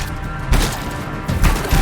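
Gunfire in the video game Anthem: two heavy, booming shot bursts about a second apart over a dense background rumble.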